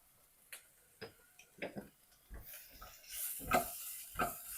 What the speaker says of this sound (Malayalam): ഇഞ്ഞി വെച്ചിരിക്കുന്ന സവോള ഇട്ട് വഴറ്റിയെടുക്കാം മഷ്റൂം ഇട്ട് കൊടുക്കാം